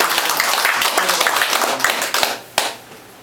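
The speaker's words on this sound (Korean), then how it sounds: "우리 오강도 부부를 위해서 어, 박수를 좀 한번" An audience at a New Year gathering of a family clan association claps for a couple, a dense burst of applause that fades out after a few seconds, with a final clap and a voice near the end.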